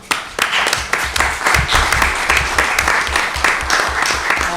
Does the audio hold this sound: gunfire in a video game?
no